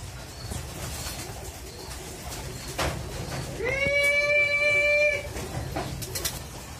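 Pigeons coo after landing outdoors in the morning, a clear drawn-out call rising above a steady background of wind and rustling, with a few fainter chirps nearby.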